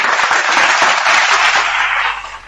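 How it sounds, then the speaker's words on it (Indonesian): An audience claps loudly and continuously at a live stage comedy show, a dense burst of applause that holds steady, then fades toward the end. "Tepuk tangan buat saudara kita Simbolon"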